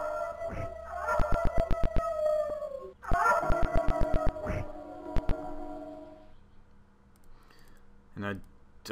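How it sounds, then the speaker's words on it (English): Wolves attacking in the retro dungeon-crawler video game Eye of the Beholder 3, with synthesized howls and snarls mixed with clicking combat effects and game music tones, loud and repeated in bursts across the passage. "we're going to get attacked here by these wolves."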